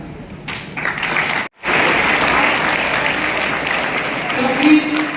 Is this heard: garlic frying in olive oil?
no